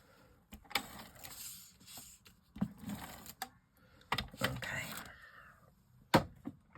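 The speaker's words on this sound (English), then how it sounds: "I'm going to use my runner, my tape running adhesive" A tape runner lays down adhesive in short rasping, clicking strokes, close and fairly quiet, with bursts separated by brief pauses. Some faint movement noise sits around them.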